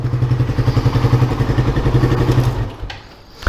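A Honda Raider 150 motorcycle fitted with a Tsukigi aftermarket exhaust pipe idles loud and close with a steady, rapid pulsing putter, then the engine note cuts off near the end, leaving a brief clatter.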